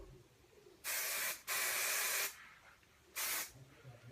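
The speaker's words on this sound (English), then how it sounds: "light sprays and mold as you spray" Aerosol hairspray sprayed onto hair while setting a 1940s victory roll, three short bursts of hiss, the middle one longest, with quiet pauses between.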